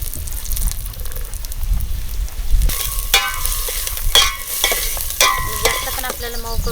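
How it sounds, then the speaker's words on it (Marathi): Onion, carrot and beans frying in hot oil with cumin seeds, giving a steady close sizzle with sharp crackles and stirring clatter, growing louder midway as the vegetables are added. "आता जिरं घातलेले आहे तर ह्यामध्ये आपण कांदा घालूया. कांदा, गाजर, बीन्स वगैरे सगळं घालायचं आहे"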